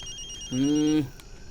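A single short electronic ring, a steady buzzing tone lasting about half a second, fairly close and clear against a quiet background.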